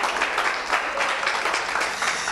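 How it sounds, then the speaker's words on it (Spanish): Steady applause from a church congregation fills the room, dense and continuous clapping for a couple of seconds without any speech. "Denle un aplauso al Señor."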